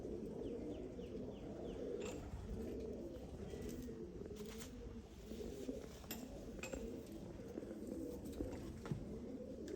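Blue bar pigeons coo steadily in a loft, a dense, continuous low murmur of many birds close by, with occasional faint clinks and chirps over it.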